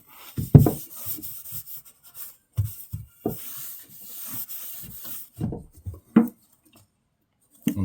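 A hand rubs linseed oil into a walnut wood surface in soft, uneven strokes of scrubbing friction, close and quiet, with short pauses between the rubs.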